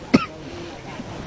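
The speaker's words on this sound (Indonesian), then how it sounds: "maaf saya batuk ya" Two short, sharp coughs from a speaker during a presentation, one near the start and one at the end, with a faint murmur of voice between them.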